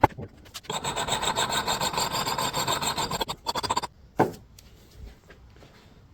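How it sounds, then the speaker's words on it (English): A knife is drawn through a V sharpener in a run of quick rasping strokes for about three seconds, then a few shorter scrapes and a sharp knock, close and clear with no talking. "I've been in here so long sharpening"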